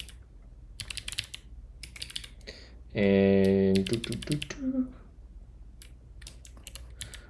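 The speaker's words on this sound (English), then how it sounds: "I'm still a little slow with this keyboard" Rapid typing on a computer keyboard, a steady patter of sharp key clicks running through most of the stretch, broken by a short loud burst of another sound in the middle.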